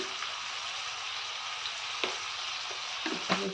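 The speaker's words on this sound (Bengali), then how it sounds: "প্রথমে আলুর টুকরোগুলো সামান্য নুন দিয়ে দেবো ভাজার জন্য।" Salted potato pieces fry in a hot pan of oil, making a continuous close sizzle with occasional soft knocks and crackles from stirring.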